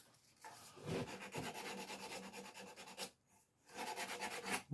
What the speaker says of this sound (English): this is 120 grit sandpaper that I'm using to do the actual shaping